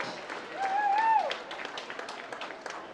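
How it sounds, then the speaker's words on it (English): Crowd applause for graduating seniors at a high school football halftime show, a moderate clapping wash heard across the clip with a voice briefly over it. "let's give one more final round of applause for these outstanding young adults"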